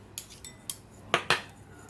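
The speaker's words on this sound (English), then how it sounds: "So just start the whisking while we add it." Whisk clinking against a bowl while blue cheese sauce is mixed, a few sharp metallic taps and scrapes, close and fairly loud with quiet pauses between strokes.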